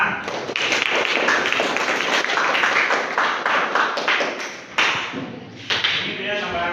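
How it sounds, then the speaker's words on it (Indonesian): Classroom applause, dense hand clapping from a group of students, sustained and fairly loud across the whole stretch, with a few sharper claps standing out and voices mixed in underneath. "Beri tepuk tangan."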